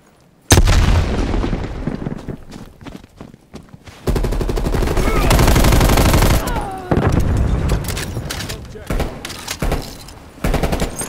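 Black Ops Cold War firefight, with rapid gunfire bursts and booming blasts that could include a thrown grenade going off, loud and continuous with brief pauses between volleys.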